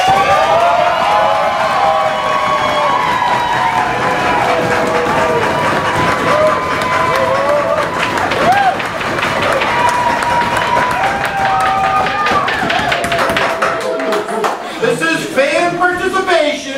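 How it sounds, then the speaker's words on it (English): Crowd applause and cheering at a live country music show, sustained and loud across the whole stretch, mixed with music and voices, thinning toward the end. "if we can give a little applause"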